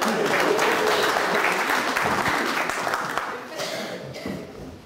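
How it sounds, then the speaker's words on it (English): An audience applauds at a talk in the UK, dense clapping that starts strong and gradually thins out, with a faint voice underneath as it fades. "An applause."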